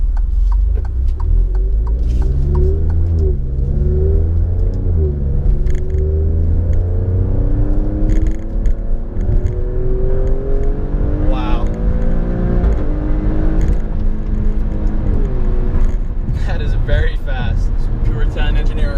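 A 505 hp 2018 Alfa Romeo Stelvio Quadrifoglio on the road drones loudly from inside the cabin, its engine pitch rising and falling through repeated accelerations and quick shifts, with someone talking over it.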